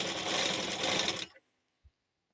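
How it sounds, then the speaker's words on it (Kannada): Sewing machine running a fast, steady double stitch along blouse piping, close and loud, then stopping abruptly with a single soft thump after. "ಹೀಗೆ ಡಬ್ಬ ಸ್ಟಿಚ್ ಹಾಕ್ಕೊಳ್ಳಿ."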